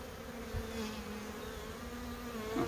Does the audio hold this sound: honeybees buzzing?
yes